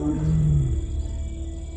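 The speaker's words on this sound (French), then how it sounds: "Ces rugissements indiquent sa présence aux femelles qui se trouvent sur son territoire" A Bengal tiger in the wild forests of India gives a deep, loud roar close by, a single sustained low call that falls away into a rumbling tail.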